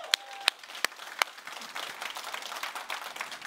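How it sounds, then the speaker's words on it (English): Church congregation applauding: a few sharp, loud single claps ring out first, then a softer, spread-out patter of many hands fills the room, heard from a little distance. "let's give her a big round of applause."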